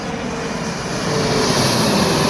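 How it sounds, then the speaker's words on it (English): A passing airplane drones overhead beside a roadside in Albany, New York, its broad engine rumble steady and gradually swelling louder over a couple of seconds, with no talk over it. "Oh, a plane."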